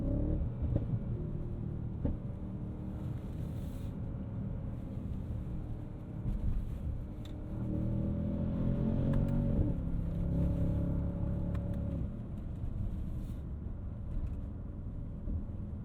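A 2020 Mercedes-Benz S63 AMG, a 605 hp four-door sedan in manual Sport Plus mode on a winding road, gives a steady low engine rumble from inside the cabin, swelling slightly midway as it accelerates.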